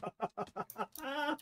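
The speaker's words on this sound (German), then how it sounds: "was ist das für ein Vogel, der hier langfliegt und so dumme Geräusche macht?" A bird in the Minecraft video game gives a quick run of five clucking chirps followed by a longer, drawn-out squawk, heard alone and fairly faint.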